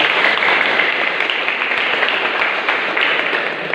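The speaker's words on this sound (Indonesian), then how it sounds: "Tepuk tangan untuk kita semua." Audience applause at an Easter revival service, dense continuous clapping from a large crowd filling the space evenly and fairly loud throughout.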